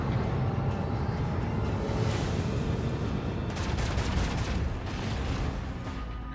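Multiple mortar barrages in the video game WH40k: Rogue Trader, a dense rolling stream of booming impacts and crackling blasts, loud and continuous without pause.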